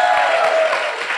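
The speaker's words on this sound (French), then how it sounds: "ça s'applaudit, s'il vous plaît" Applause and cheering from an outdoor festival crowd greet a live African music set, a dense, steady wash of clapping that stays loud and even for the whole short stretch with no clear voice on top.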